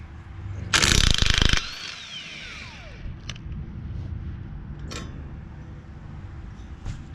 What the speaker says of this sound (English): I'm using a chrome socket on the impact